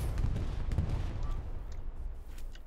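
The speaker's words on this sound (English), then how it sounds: "Bombing run." Distant booming explosions from a bombing run in the World War II shooter Hell Let Loose, a few heavy low thuds rolling together over a short stretch with no talk.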